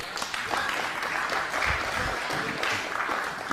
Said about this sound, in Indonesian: Tepuk tangan untuk beliau dulu.